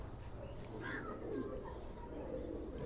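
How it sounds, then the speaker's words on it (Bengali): Imported Pakistani Royal Teddy pigeons coo softly and repeatedly at close range, their low murmuring calls rising over a constant background hum, with a few faint chirps mixed in. "জাস্ট আপনারা একটু দেখুন আমার কবুতরগুলো"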